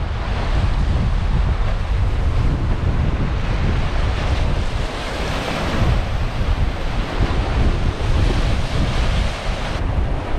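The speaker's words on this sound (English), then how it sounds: "Okay, I'm down the beach." Surf rolling onto a beach on a windy afternoon, a steady loud roar of waves with heavy wind buffeting the microphone throughout, no voices.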